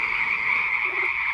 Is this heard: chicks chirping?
no